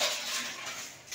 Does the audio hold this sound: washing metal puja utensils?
yes